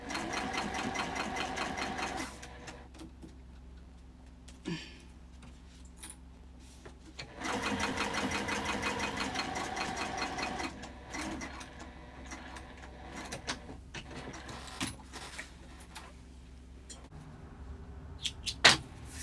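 A sewing machine top stitches a tote bag in two quick, even bursts of rapid mechanical stitching, with short pauses, a few clicks and handling noises between the runs.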